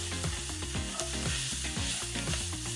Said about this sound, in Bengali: আমাদের আদা রসুনের পেস্টটা ভালোভাবে ভাজা হয়ে গেছে।